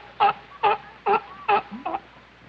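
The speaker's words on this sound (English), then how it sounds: "That croaking sound is sea lion talk for let's eat." Five loud, throaty croaking calls from sea lions at a zoo in a steady rhythm, each short and barking, close by with a quiet background between them.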